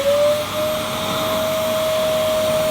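A Simplicity SV1 vacuum cleaner runs steadily at full suction, a loud continuous motor whine with a sustained airy rush and no pauses or voices.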